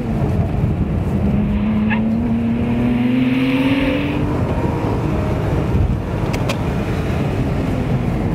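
A 2011 Porsche Boxster Spyder engine on a full lap of a street circuit, heard from inside the car as a loud, continuous roar that rises in pitch through the gears, with a brief dip around a shift.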